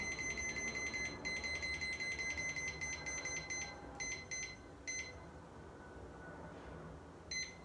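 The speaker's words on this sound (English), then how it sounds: "So we have our 40-minute timer here." An oven timer being set for sweet potato bread gives a run of short, rapid electronic beeps, then a few separate chirps and one last beep, close by and alone.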